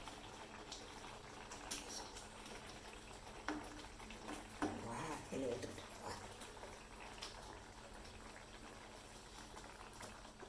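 Fried eggs simmer in a boiling kurma gravy, giving a soft, continuous bubbling that stays faint and close throughout.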